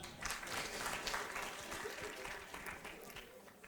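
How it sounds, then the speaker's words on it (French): An audience in a hall at a Cannes Series masterclass applauds steadily, with dense, even clapping throughout and a faint voice underneath. "On peut l'applaudir, s'il vous plaît."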